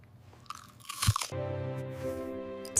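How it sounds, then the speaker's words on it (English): A crunchy apple gets one sharp, loud bite, followed by steady chewing close up, with a constant tonal hum running beneath. "This apple is very crunchy."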